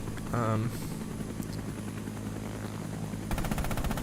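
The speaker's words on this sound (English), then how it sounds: "that sounds like a machine gun." A machine gun fires from a helicopter in Rising Storm 2: Vietnam, a rapid rattling burst near the start and another near the end over the steady drone of rotor blades, with a voice talking.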